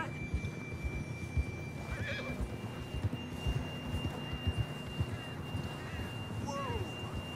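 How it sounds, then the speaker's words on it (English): A horse in Red Dead Redemption 2 snorts and whinnies over a steady clip-clop of hooves at a ride, with wind and game ambience behind it and a voice speaking briefly. "John was riding that horse when we left Blackwater."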